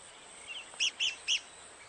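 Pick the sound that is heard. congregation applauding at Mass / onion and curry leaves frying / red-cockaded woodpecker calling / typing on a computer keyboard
red-cockaded woodpecker calling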